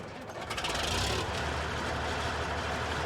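A Big Bud 450 four-wheel-drive tractor in Farming Simulator 19 starts up, cranking briefly and catching, then settles into a deep, steady, loud idle rumble.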